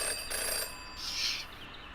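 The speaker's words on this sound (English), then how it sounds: "A phone ring." A telephone rings in the Jenny LeClue video game, two electronic trilling bursts, then a higher brighter tone, clear and unaccompanied by speech.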